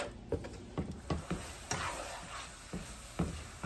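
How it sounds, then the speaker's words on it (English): Taco meat sizzles in a hot pan while a spoon stirs it in repeated scraping strokes, with a steady close frying hiss between them. "Now, I'm going to be turning this heat back up. Give this a really good stir."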